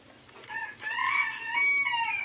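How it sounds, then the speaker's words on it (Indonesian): A rooster crows near a house with a strawberry garden, one drawn-out cock-a-doodle-doo rising and holding strongly, fairly close and with no voices over it. "Suara ayam."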